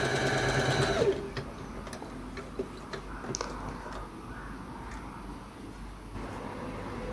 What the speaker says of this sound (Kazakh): екі лентаның басын бір-біріне қосып, қайтарып тігіп қосып шығатын боламыз